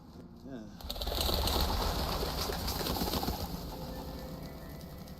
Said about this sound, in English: they make the birds fly up, which startles the doctor